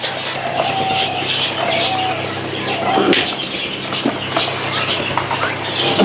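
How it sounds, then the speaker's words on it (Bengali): Montezuma quail in an aviary give short, high whistled calls, with soft flutters and other bird sounds, under people talking nearby. "এই হচ্ছে মন্টেজুমা কোয়েল"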